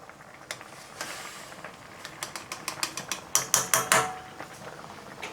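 Chili paste is stirred into boiling tom yum goong, giving a run of quick rhythmic clicking strokes of a utensil against the pot that build in loudness over soft bubbling, close and with no talking.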